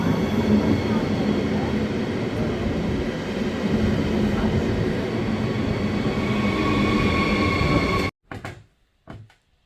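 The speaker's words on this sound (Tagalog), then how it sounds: "dito na talaga yung train na inaantay ko guys" A Skyway train pulls into a station after a long delay, its loud, steady rumble and rolling roar filling about eight seconds before cutting off, followed by a couple of brief knocks.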